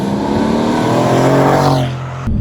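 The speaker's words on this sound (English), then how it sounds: "This car is also equipped with the AMG Performance exhaust." A Mercedes-AMG C63 S coupe with the AMG Performance exhaust roars loudly with a deep, throaty note, holding high revs before easing off and dropping to a lower rumble.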